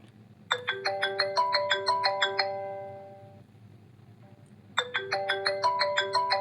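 A mobile phone ringtone plays a bright, repeating chime melody, rings through one full phrase, fades, then starts again, left unanswered in a quiet room.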